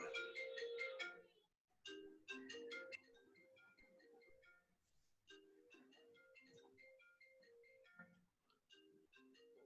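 A mobile phone ringtone plays a bright, repeating electronic melody in quick bursts of notes with short pauses between phrases, fairly faint and heard on its own without talking.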